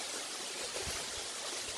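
Bear Creek flowing steadily beside a greenway trail near a bridge in Ashland, a continuous broadband rush of running water with no pauses, close and even in level.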